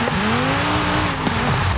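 Car drifting in Forza Horizon 5, its engine held at high revs while the tires squeal in a long, loud skid with shifting pitch, ending in a brief jolt and settling whine, no talking.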